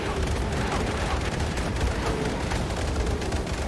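Dense anti-aircraft gunfire in Sudden Strike 4 during a 1944 WWII naval carrier battle, a continuous roaring fusillade of overlapping shots and booms without pause, loud and crowded.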